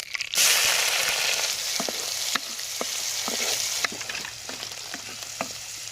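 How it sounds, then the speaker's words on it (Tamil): Onions and chilies hit hot oil with cumin and curry leaves in a pan, a loud burst of sizzle at first that settles into steady frying with sharp clicks of stirring, close up. "இப்போ வெங்காயமும் வட்டிட்டு மிளகாயும் சேர்த்து போட்டுக்கலாம்."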